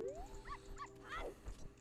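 Short whimpering yips from a dog in the video game Majora's Mask, a few quick rising cries at moderate loudness over faint game background.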